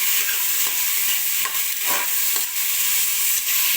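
Peas, carrots and onion stirred and frying in a pan for rice bath, a steady close sizzle with soft scraping strokes of the spoon repeating every half second or so.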